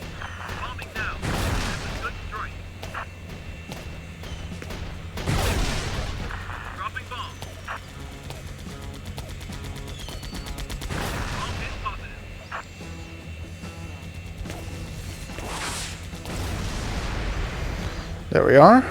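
Bombs dropped during a bombing run in Air Conflicts: Vietnam, a series of deep blasts at steady intervals with a constant aircraft drone beneath and a louder burst at the end.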